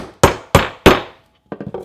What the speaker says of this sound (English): take your hammer and you're going to drive it the rest of the way home.